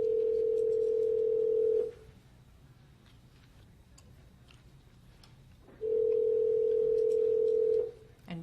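A telephone ringback tone sounds as board members are called in during a board meeting: two long steady tones about two seconds each, separated by a four-second gap of quiet room noise with faint clicks.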